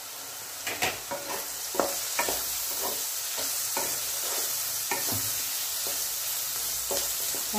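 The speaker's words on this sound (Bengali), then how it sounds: "সবজিগুলো একটু ভাজা হোক," Mixed vegetables frying in plenty of oil in a pan for a vegetarian pasta, a continuous sizzle broken by repeated scraping stirs of a spatula, close and clear, with no talking.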